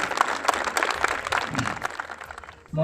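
A hall audience at a child-rights symposium at Government Degree College Darhal claps to welcome a student to the stage, a dense, steady round of applause that fades toward the end.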